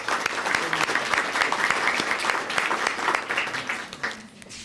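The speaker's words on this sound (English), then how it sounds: "So let's give them a round of applause." An audience at a monthly student awards gathering applauds scholarship sponsors with a steady crowd of clapping hands, fairly even and moderately loud, tapering off near the end.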